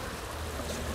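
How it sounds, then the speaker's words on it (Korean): A small stream flows between apartment blocks in the middle of a city, giving a steady, broadband rush of moving water that stays even and continuous, with no voices. "도시의 한가운데서 들리는 시냇물 소리라서 그런지 더 귀하고 값지게 들립니다"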